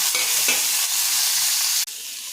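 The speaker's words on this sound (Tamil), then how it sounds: "கொத்தமல்லி போட்டு வதக்கிக்குவோம்." Coriander leaves frying in a pan with onion, green chilli and tomato, a loud continuous sizzle with scraping stirs near at hand.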